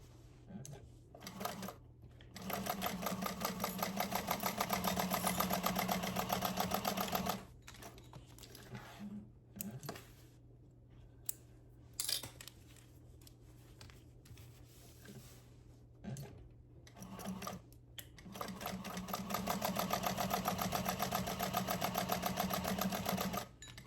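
A sewing machine stitches pieces of an appliquéd bag together in two long steady runs of rapid rattling, with quieter handling and fabric shuffling in the pause between them.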